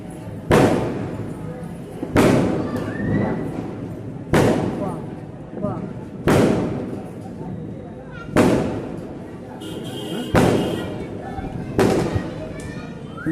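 Firecrackers burst during Diwali night celebrations despite a ban, with seven or eight sharp, loud bangs spaced about two seconds apart, each decaying into a brief crackling tail over a distant background hum.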